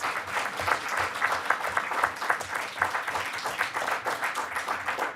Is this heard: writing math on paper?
no